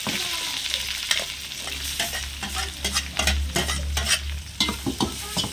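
Curry leaves, small shallots and ginger-garlic paste fry in hot oil for a chicken curry, a loud close sizzle with a low rumble beneath, punctuated by repeated scraping and tapping strokes of a spoon stirring.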